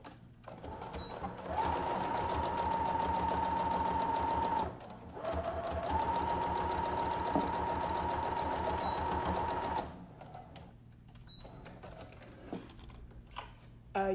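A sewing machine stitches a face mask seam in two long steady runs of motor whir, separated by a short pause, then stops for quieter handling noises at the end.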